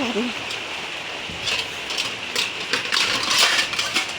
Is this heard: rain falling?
yes